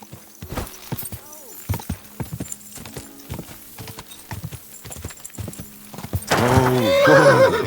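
Hooves clop steadily from a horse in Kingdom Come Deliverance 2, ending in a loud, close, drawn-out whinny over the last second or so, with no speech.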